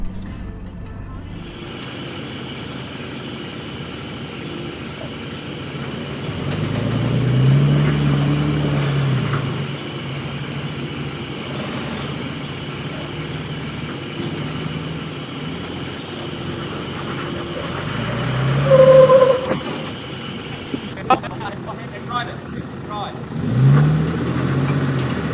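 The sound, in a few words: 4WD struggling along an offroad sidetrack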